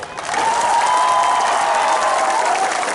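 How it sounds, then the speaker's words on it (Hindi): A crowd claps steadily, a dense wash of applause that swells quickly and holds for a few seconds. "ताली मारो"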